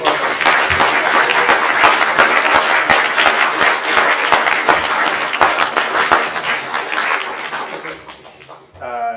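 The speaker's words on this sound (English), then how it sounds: "all of you, deserve a big round of applause" An audience gives a sustained round of applause for competitors at a declamation prize event, dense steady clapping that fills the room and tapers off near the end.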